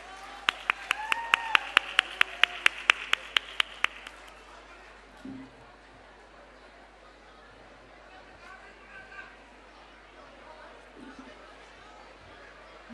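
Audience applause welcoming the vice chairperson of the India Today group onto the stage at the Sahitya Aaj Tak literary event, a burst of sharp, dense clapping for about four seconds that then gives way to quieter crowd murmur and stage noise.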